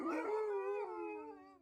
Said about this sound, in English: A chorus of muffled howls and shrieks perforated the quiet.